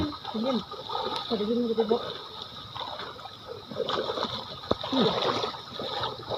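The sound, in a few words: fish splashing in water while catching fish with a net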